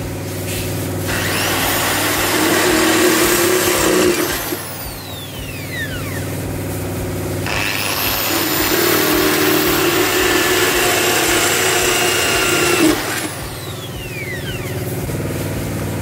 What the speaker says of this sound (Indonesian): Nah, sekarang kita pakai mata bor yang lebih gede lagi.